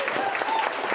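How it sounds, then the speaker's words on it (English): Audience at a legislator education forum breaks into applause, a dense, steady patter of clapping filling the room for about a second. "Can we just give her some applause?"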